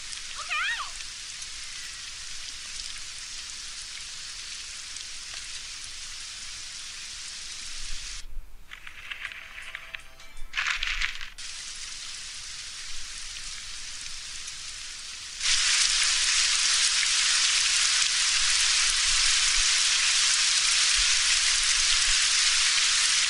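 Rain falling in the video game Postal 2, a steady hiss that cuts out briefly, then returns much louder and denser for the last stretch.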